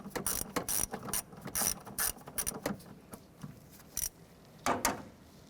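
A ratchet removes a bolt from the wiper motor and transmission of a 1994-2004 Chevrolet S10, giving quiet, irregular runs of short clicking strokes with brief gaps between them.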